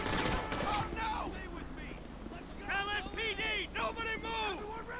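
Gunfire in the video game GTA V during a police chase, a burst of rapid shots at the start, then someone talks excitedly over the game's background noise.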